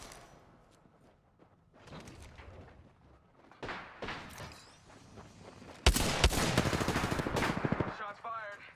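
Gunfire in the Apex Legends video game, with scattered shots building to dense, rapid bursts of automatic fire toward the end. Voices talk over the shooting.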